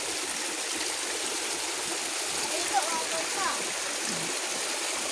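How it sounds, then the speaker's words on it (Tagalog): Water flows in a stream, a steady broadband rush heard close by with small splashes partway through. "Ito yung tubig guys"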